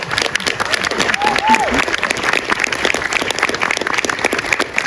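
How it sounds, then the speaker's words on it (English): Audience applause for performers at an evening stage event on diverse Canadian voices, steady clapping through the whole stretch with crowd murmur and a brief whoop or whistle near the start. "Please join me in a round of applause again"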